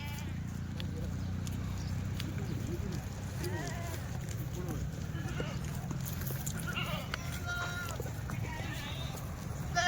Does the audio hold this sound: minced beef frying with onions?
no